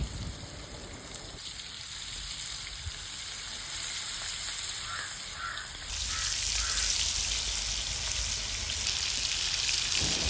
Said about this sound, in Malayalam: ഇനി നമ്മൾ മസാല തേച്ച് വെച്ചിരിക്കുന്ന മീൻ ഓരോന്നായിട്ട് ഇതിലോട്ടിട്ട് കൊടുക്കാം കേട്ടോ